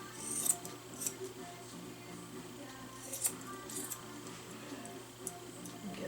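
Small scissors snip fur between a Miniature Schnauzer's paw pads during grooming, giving quiet, close metallic clicks spaced irregularly over a soft background.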